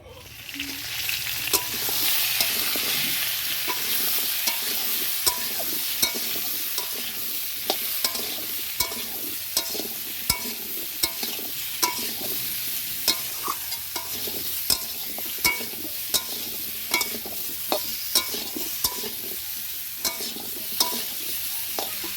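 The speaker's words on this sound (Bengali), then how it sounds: "শুকনো লঙ্কা আর কালো জিরে ফোড়ন দিয়ে ভাজা ভাজা করব।" Pumpkin frying with dried red chilli and black cumin tempering, a soft, continuous sizzle punctuated by sharp spatula clicks and scrapes against the pan at an irregular, frequent pace.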